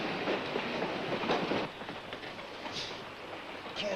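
A train rolls steadily along the rails in a dense, continuous rumble with faint clacking, heard alone without voices.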